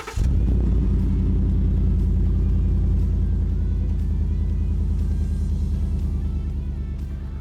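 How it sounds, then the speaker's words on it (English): Ford F150 truck with a 5.0 Coyote V8 and MBRP pre-axle exhaust, a loud, deep rumbling idle and revs that hold steady up close, then ease off slightly near the end. "I went with an MBRP pre-axle exhaust to make it sound as good as it looks."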